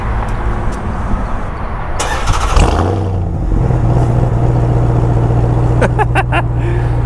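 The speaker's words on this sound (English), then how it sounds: "Speaking of remote start, let's go ahead and hear this exhaust." A 2021 Ram TRX pickup with a 702 hp engine cranks over on remote start, the exhaust bursting into a loud, deep rumble that settles into a steady, throaty idle close by.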